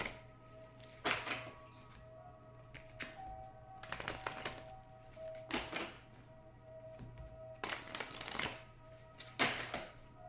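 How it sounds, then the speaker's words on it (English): Oracle cards being shuffled close up, repeated crisp riffling bursts of a few seconds each separated by short pauses, over a low steady background hum. "Please think of your question as I shuffle the cards."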